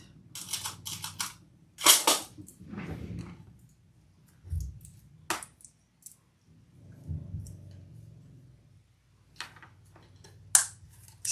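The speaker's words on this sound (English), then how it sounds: "Set our rivet." A rivet being set on a leather shoulder bag gives a handful of sharp, close, separate knocks spread through the clip, with soft handling rustles and quiet pauses between them.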